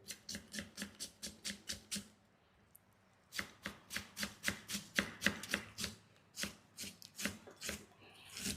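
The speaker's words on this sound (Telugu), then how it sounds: "కర్రీకి గ్రేవీ రావాలంటే ఎట్లా కట్ చేయాలో చూపిస్తాను" A knife chops onion on a board for a hotel-style curry, in steady rapid bursts of sharp taps, a short pause midway, then another fast run of close, crisp strokes with no voices.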